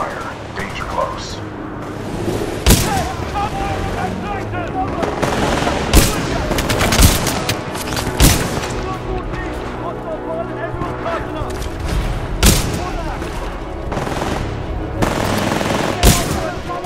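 Sustained automatic gunfire and heavy bursts in the Titanfall 2 shooter game, loud and close, with sharp repeated shots over a dense battle din and a radio-style voice speaking now and then.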